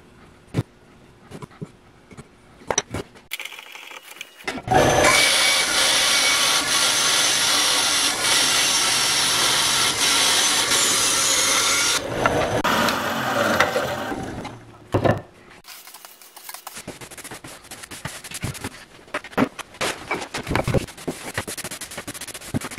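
A board of wood being ripped to final dimension for a BBQ grill firewood handle, a loud continuous cut of about ten seconds, close, with scattered shop knocks and handling before and after.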